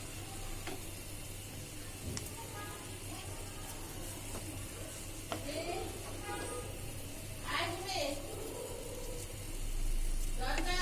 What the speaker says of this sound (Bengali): এভাবে ভাজতে হবে, বারবার একটু কিছুক্ষণ পর পর উল্টায় দেখতে হবে